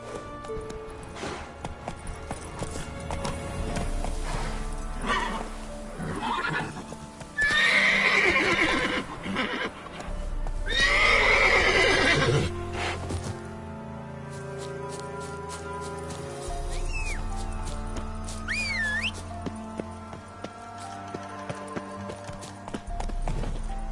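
Roach, a horse in Witcher 3, gives two loud whinnies between clip-clopping hooves, followed by softer snorts and rhythmic hoofbeats on the ground.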